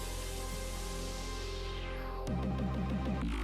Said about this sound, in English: I added a reverb to the leads to make them sound a bit roomier, bigger, and I added a cutoff automation